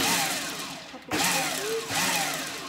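A food processor pulses basil, garlic and other vegan pesto ingredients, two short whirring bursts of the motor with a brief pause between, loud and close.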